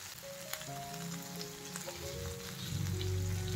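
Kebabs sizzle in a hot pan as they are cooked on both sides, a steady close frying hiss with faint tonal hum underneath, growing louder toward the end.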